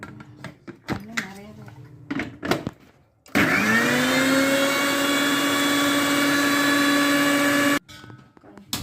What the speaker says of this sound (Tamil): கொஞ்சம் நல்லாவே வெழுமுனா அரைச்சிக்கோங்க.